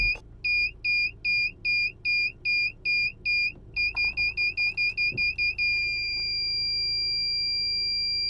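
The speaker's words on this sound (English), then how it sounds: "the sound that this alarm makes is absolutely dreadful" A car's parking sensor alarm sounds a rapid series of loud, steady electronic beeps that quicken as the car backs up, then merge into one continuous tone lasting several seconds.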